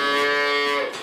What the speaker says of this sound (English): The cattle call.